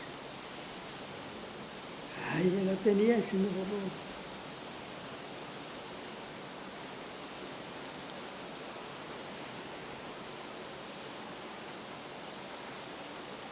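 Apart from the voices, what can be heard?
rain / water pouring down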